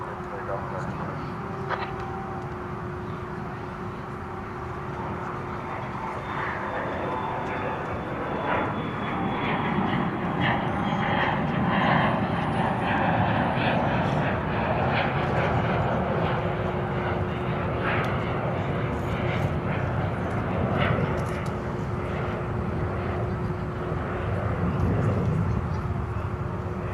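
An airplane taking off at DFW Airport roars steadily throughout, a continuous broad engine rumble with a faint whine, heard from a distance outdoors while a voice talks intermittently over it.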